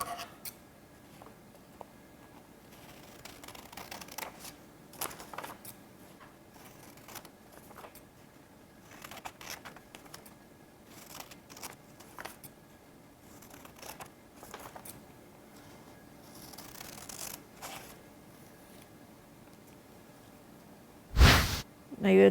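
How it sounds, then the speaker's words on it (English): Scissors cut along the lines of a paper moon craft, giving faint, close snips and rustles spread through a quiet stretch, with a sharp louder burst near the end. "take the scissors and make cuts down the white lines"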